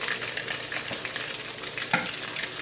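Stir-fry noodles being tossed and stirred in a sizzling pan, a continuous frying hiss with soft scrapes and one brief utensil clink, close and fairly loud.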